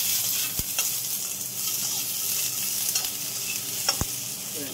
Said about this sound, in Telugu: అక్కడ వేసుకుని మంచిగా పండులాగా మెత్తగా వేయించుకోవాలి